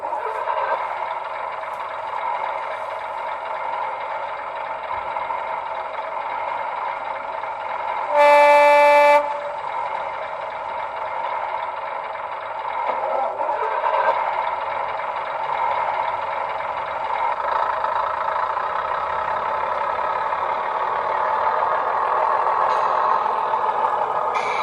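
Model locomotive sound chip idling with a steady droning diesel engine hum, interrupted by one loud, brief two-tone horn blast early on, then the engine note continues and slowly builds.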